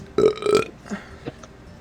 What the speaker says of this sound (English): I burped.